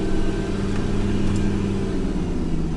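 A Mitsubishi car rolls down a hill in first gear, its engine giving a steady, close, droning rumble without any break.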